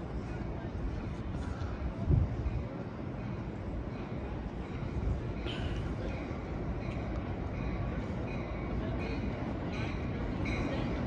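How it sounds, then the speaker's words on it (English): An Amtrak Capital Corridor passenger train rumbles steadily into Emeryville station, California, with a continuous heavy roar and clanking, close and fairly loud, with brief higher squeals and rattles. "here comes Amtrak Capital Corridor Train 536"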